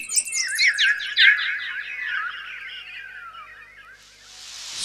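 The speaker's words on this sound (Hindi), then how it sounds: "सुंदर पक्षी मधुर वाणी में गुणगान कर रहे हैं।" Several birds sing sweetly beside the Yamuna river, a run of bright chirps and trills close and clear for about four seconds, ending with a soft hiss of flowing water or breeze.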